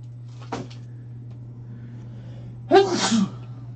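A single loud, close human sneeze that opens with a sharp breath intake and ends in an explosive burst, heard over a steady low electrical hum in a quiet room during a sports card break.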